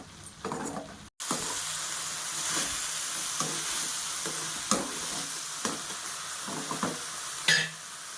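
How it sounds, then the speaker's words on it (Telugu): Broad beans simmer in a covered pan over a low flame with a little water added, giving a soft continuous sizzle and bubbling with a few clicks and scrapes close by and no voices. "సన్న మంట మీద ఉడికించుకోవాలి."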